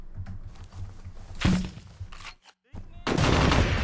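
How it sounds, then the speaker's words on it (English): A grenade launcher fires in the video game Tunnel Rats 1968, with a sharp blast midway followed by a brief silence and then a loud, sustained burst near the end, plus softer game noise before it. "I do want to see if the grenade launcher works now."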